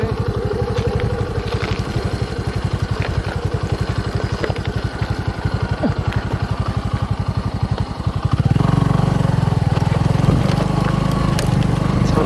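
Motorbike engine putting steadily at close range while the bike is handled across a railway track, then the tone thickens into a louder, rougher running note in the final seconds.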